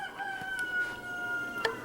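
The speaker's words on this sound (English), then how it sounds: "Those are our roosters." Backyard roosters crow faintly in the distance, a thin drawn-out call with a second brief crow near the end, heard over quiet room ambience.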